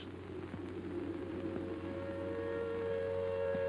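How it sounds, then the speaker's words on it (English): A distant air raid siren drones with steady tones over a low rumble, faint and sustained throughout. "Then the air raid siren wails again"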